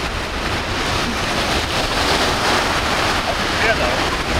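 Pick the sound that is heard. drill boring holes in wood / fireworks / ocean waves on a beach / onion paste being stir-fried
ocean waves on a beach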